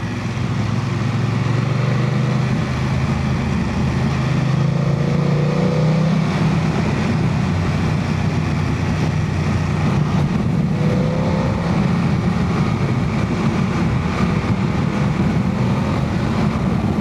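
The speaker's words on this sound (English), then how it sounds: "Use the old engine braking." A vehicle's engine braking on a windy road toward Skipton, a loud, steady drone with heavy wind noise and low rumble throughout, no speech.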